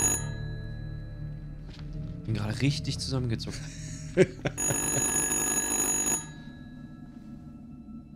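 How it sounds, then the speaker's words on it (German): An electronic telephone ringtone chirps in the Little Hope horror game, a steady repeating ring lasting several seconds, sitting under a startled voice talking over it. "Nervender Klingelton noch, mein lieber Herr."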